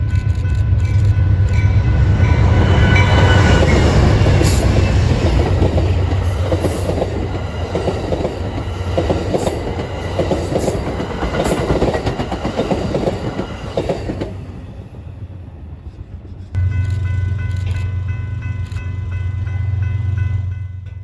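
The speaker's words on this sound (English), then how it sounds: "Amtrak number 5 came roaring through, the California Zephyr just a few minutes into its 3-day trip to Emeryville." Amtrak California Zephyr passenger train roaring past along the BNSF line near Chicago, a loud close rumble with rail clatter and squeal, fading briefly before a heavy low engine drone returns.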